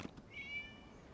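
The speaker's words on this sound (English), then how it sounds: "It was just a cat." A cat in the video game Genshin Impact gives a single soft meow, rising briefly and trailing off, faint against a quiet background.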